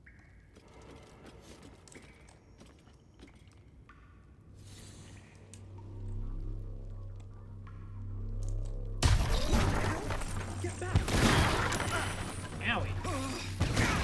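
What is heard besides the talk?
explosions in the video game Baldur's Gate 3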